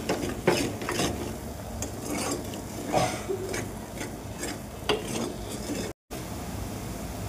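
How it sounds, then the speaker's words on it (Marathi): Black masala mutton curry being stir-fried in a pan, a spoon scraping and clinking against the metal in irregular strokes over a soft background sizzle, close and moderately loud. "आता हे सर्व चांगलं पुन्हा परत परतून घ्यायचं चांगलं."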